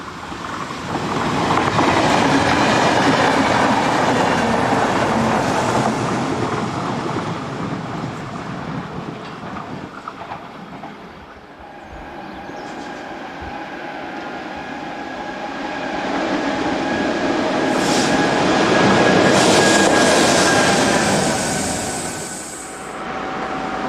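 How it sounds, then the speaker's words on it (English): A RENFE Class 440 suburban electric train runs past with a loud, continuous rumble and wheel clatter that swells, eases slightly in the middle, then builds again before fading. "Local RENFE trains in the area are operated by these Class 440 suburban units."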